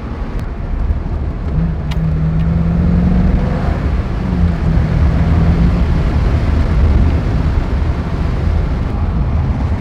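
C5 Corvette with a short shifter accelerating on the road, a steady loud engine drone and road roar from inside the car, with rising engine tones as it pulls through the gears.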